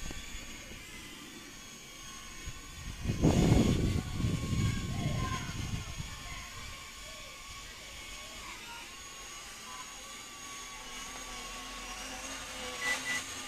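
A Metakoo Q323 drone hovers outdoors in gusty wind, its motors giving a steady, fairly faint whine that holds throughout, briefly masked by a loud rush of wind buffeting early on.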